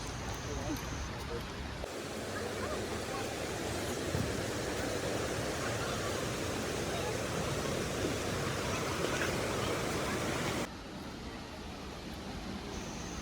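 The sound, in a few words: Athirappilly waterfalls rushing water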